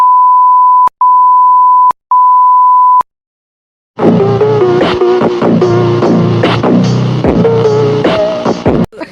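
Three long, even electronic phone tones beep in a row with short gaps, then fall silent before a burst of loud, muddled noise.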